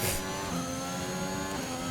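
An F1 race car engine revs at Silverstone during the British Grand Prix in the F1 2021 racing game, a steady, loud, high-pitched motor drone held throughout with no talk over it.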